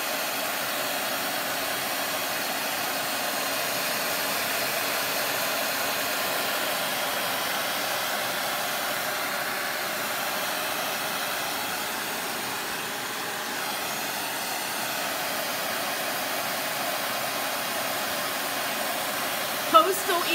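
A hair dryer blows over freshly applied milk paint, a steady loud whoosh running continuously, with a brief voice near the end.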